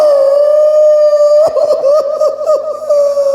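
A performer imitates a whining, crying puppy on stage at a Ramlila fair, sustaining a loud, wavering high whine with a sobbing, wobbly stretch in the middle.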